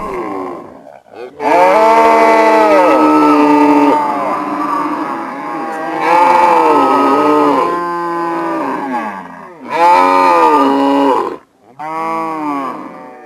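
Cattle on an Ethiopian farm low loudly as cows and their calves come together in the morning, with several long, close moos and short breaks between the calls.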